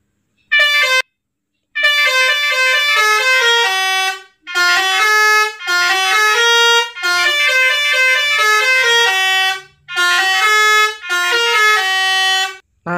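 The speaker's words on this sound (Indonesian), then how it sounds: "MP3 klakson basurinya sudah dipasang di klakson 1" A musical basuri bus horn from Bus Simulator Indonesia plays a bright, loud, tuneful melody of stacked tones in several long bursts separated by short silences, with no talking.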